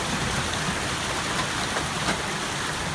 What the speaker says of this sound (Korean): 크기 5cm나 되는 우박이 강하게 떨어져 정원사들의 작업에 지장을 주었어요.